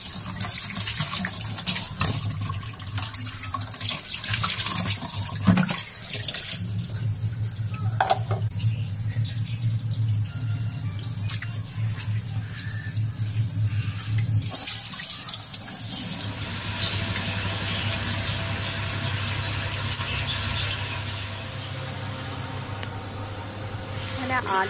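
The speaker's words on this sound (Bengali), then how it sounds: "এখন হাতটা ধুয়ে নেব, হ্যান্ড ওয়াশ করে নেব" A kitchen tap runs steadily into a sink as hands are washed after handling fish, with a continuous splashing hiss that changes as the hands move under the stream. A voice talks faintly in the background.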